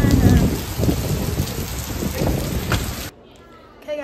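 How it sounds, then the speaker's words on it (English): Heavy rain pours outdoors in a dense, loud hiss with scattered patters for about three seconds, then cuts off abruptly to near quiet before a faint sound returns. "It's starting to rain."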